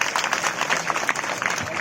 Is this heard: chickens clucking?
no